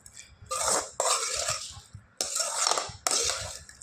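Curd rice is mixed by hand in a bowl, giving wet squelching, stirring bursts with clinks against the dish, in about three separate close passes with brief pauses between.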